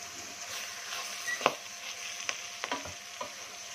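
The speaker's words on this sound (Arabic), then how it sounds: "نفضل نقلب فيها لغايه لما تحمر الخضره، تغمق شويه." Vegetables sizzle and fry in a pot for taro (colocasia), with a steady hiss broken by several sharp scrapes and clunks of a spoon stirring, close and fairly quiet, no talking.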